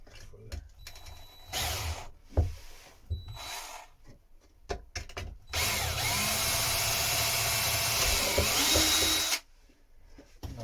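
A power drill bores hinge holes in wood on a Shetland project, short bursts of whirring followed by one long steady run of several seconds, with handling noises between.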